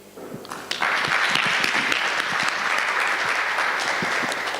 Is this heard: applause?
yes